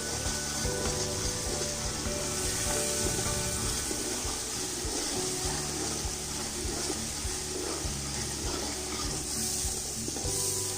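Steady hissing sizzle of aloo pulao ingredients stir-frying in a pan, a constant bright spitting texture with occasional spoon scrapes, no talking.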